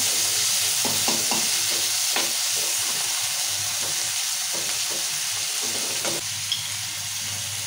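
Tomatoes cook down in a pan with a constant hissing sizzle, while a spatula scrapes and taps in an uneven rhythm, close and steady, with no talking.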